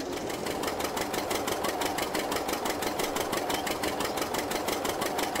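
A tractor engine runs in a farming simulator video game, a steady loud mechanical drone with a fast regular pulsing throb that holds unchanged throughout with no talk over it.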